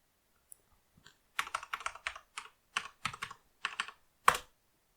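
A password is typed on a computer keyboard at a Linux terminal: sparse, crisp keystrokes in short uneven bursts with pauses between, close and fairly quiet, the last key struck hardest.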